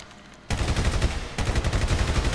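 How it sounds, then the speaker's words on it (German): Automatic gunfire on a shooting range in the video game GTA 5 starts abruptly after a quiet moment, a loud rapid continuous stream of shots with a brief break midway. "Ich baller einfach die ganze Zeit"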